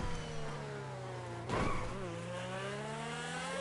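A Ferrari sports car engine in the video game GTA Online revving steadily with a rising tone, punctuated by a sharp burst of acceleration midway and a brief tire squeal, loud and close with no talk.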